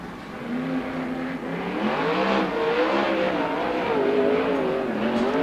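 A 410 sprint car engine howls around the track during qualifying at Perris Auto Speedway, a loud, continuous race-engine roar rising and falling in pitch as the car accelerates and lifts through the corners, heard alone without talk.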